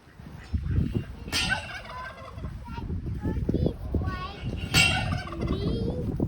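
Several turkeys gobble loudly in bursts, with chattering calls overlapping across a noisy background.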